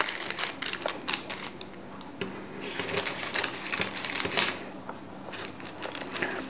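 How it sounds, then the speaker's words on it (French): Scissors snip parchment paper into small squares in a home kitchen for homemade bagels, a quick run of crisp, close cutting clicks and rustles with no talking. "On va découper le papier sulfurisé en petits morceaux."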